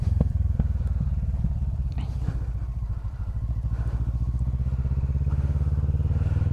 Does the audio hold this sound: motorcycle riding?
yes